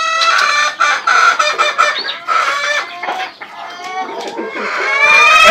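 Chickens clucking and a rooster crowing at a poultry shop selling month-old desi chicks, busy overlapping calls close by throughout, with voices mixed in.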